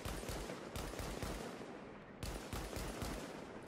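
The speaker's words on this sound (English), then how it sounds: "MK20 SSR in action" An MK20 SSR semi-automatic sniper rifle fires in the shooter game The Division. Shots come in quick, steady succession, each one a sharp, loud crack, with a brief pause partway through before the firing resumes.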